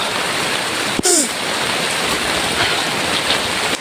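Heavy rain pours in a dense, constant hiss throughout, loud and close, with one sharp knock near the start and no clear voices.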